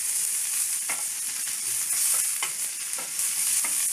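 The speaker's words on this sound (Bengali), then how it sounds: "তেল গরম হয়ে গেছে, এতে এবার কুচনো পেঁয়াজগুলো দিয়ে দিলাম।" Chopped onions frying in hot oil, a steady loud sizzle with occasional stirring scrapes, heard alone without talk.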